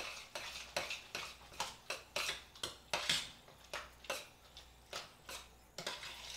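A spoon scrapes and clinks around a pot while milk is stirred into macaroni and cheese, producing a steady series of close metallic strokes at an even rhythm.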